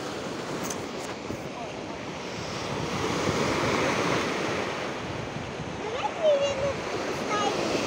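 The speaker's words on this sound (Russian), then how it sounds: "мне нравится здесь, шумит. Видишь, штормит чуть-чуть." Rough, stormy Baltic Sea surf at Zelenogradsk roars continuously with gusty wind buffeting the microphone, a broad, loud wash of breaking waves.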